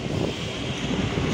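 Steady wind rushes past, a broad continuous whoosh with light microphone buffeting, no voices.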